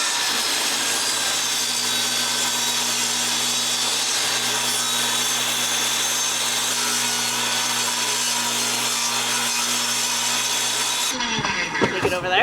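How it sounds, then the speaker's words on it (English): A wood planer straining as it feeds big boards for an addition floor frame, a loud continuous machine roar with a steady hum that runs for about eleven seconds and then cuts off into clattering handling noise. "I don't know why our planer has such a hard time with these big pieces."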